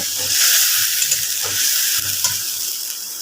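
Spices sizzle in a hot pan as they are stirred, a steady bright frying hiss close by with soft scraping strokes of the spoon underneath.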